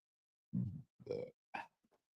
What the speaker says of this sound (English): I just burped into the mic